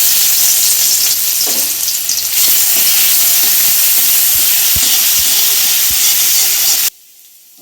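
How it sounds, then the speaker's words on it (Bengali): Garlic fries in hot oil in a wok with a loud, continuous sizzle and hiss, broken by light stirring clicks, then cuts off abruptly near the end. "তেল গরম হয়ে গেছে, রসুন দিয়ে দিচ্ছি।"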